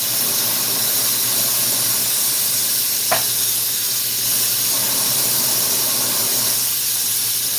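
Glassblowing torch roaring with a steady, loud broadband hiss while a glass pipe handle is cut off, continuous and close, broken once by a brief sharp tick midway.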